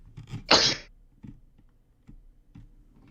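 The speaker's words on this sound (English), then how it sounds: "Sneezed. That was a sneeze." A single sharp sneeze bursts out loud and close, with faint ticking clicks around it in a quiet room.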